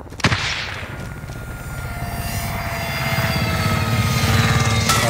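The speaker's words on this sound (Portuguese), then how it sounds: "Helicóptero de suporte inimigo no ar." An enemy support helicopter in the Call of Duty Modern Warfare battle royale game, a loud steady rotor thrum and engine whine that swells slightly as it holds overhead, with a sharp impact at the start.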